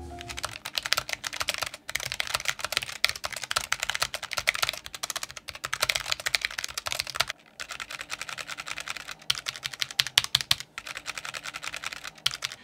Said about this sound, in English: let's end the video with the all-important typing test.